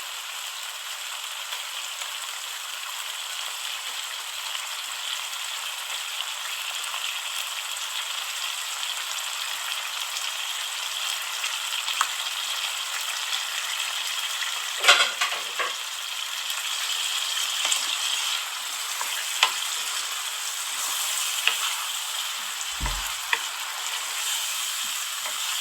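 Chicken pieces sizzle and fry in a pan for a curry, a continuous close crackling hiss with occasional sharper pops and a brief clatter of stirring partway through.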